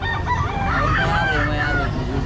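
A 15-month-old bull stag rooster crows loudly and close at a busy pet market, one long drawn-out crow over steady crowd noise and background chatter.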